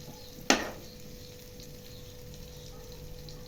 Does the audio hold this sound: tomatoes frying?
yes